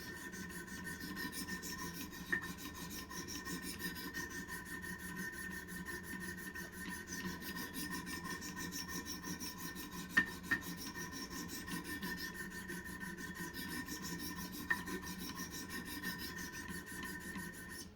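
A knife is sharpened on a Wicked Edge Pro-Pack III system, stones drawn along the blade in a quiet, continuous rasping rub, broken by a few faint clicks.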